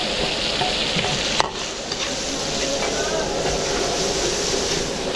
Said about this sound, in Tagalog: gigisa muna natin bagoong